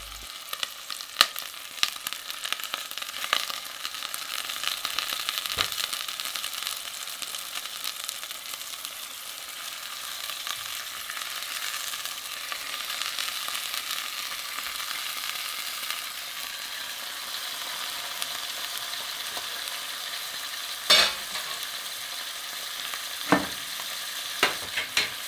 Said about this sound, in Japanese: 温めた鍋にうなぎの断面から焼いていきます。